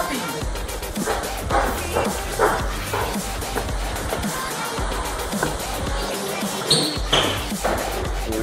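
A puppy barks repeatedly at a plumbing job site, sharp, close yaps and yips in an uneven rhythm, with scuffling and shuffling noises between them.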